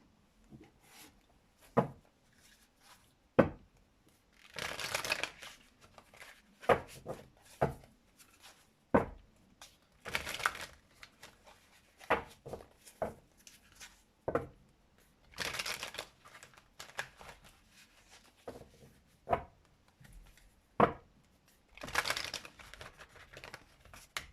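Tarot cards shuffled by hand in repeated bursts of riffling and soft slaps, each a second or two long with short pauses between, close and fairly quiet, no talking.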